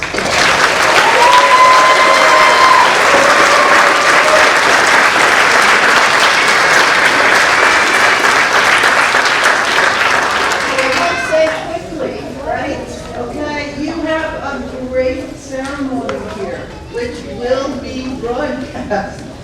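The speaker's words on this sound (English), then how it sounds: "And let's just give everybody an applause." An audience at a pinning ceremony gives loud, sustained applause for about eleven seconds, which then thins out as a voice begins speaking over the last few scattered claps.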